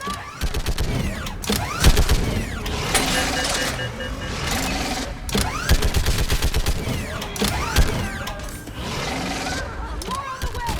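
Gunfire during a Mass Effect 3 battle: dense, rapid bursts of weapon fire and clanking mechanical sounds continue loudly throughout, with shouted voices mixed in.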